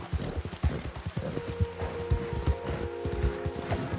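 A horse gallops in the Red Dead video game, its rapid, rhythmic hoofbeats close and loud with no break, and a faint tonal hum runs underneath.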